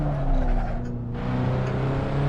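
A race car engine in the driving game Assetto Corsa holds a steady, droning tone at a constant pitch, close and continuous with no voices.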